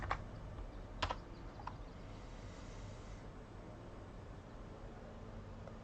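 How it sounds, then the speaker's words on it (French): A computer keyboard being typed on while a game is played, with a few sharp key clicks early on and otherwise faint, steady background noise. "Vous entendez le clavier, je suis sûr."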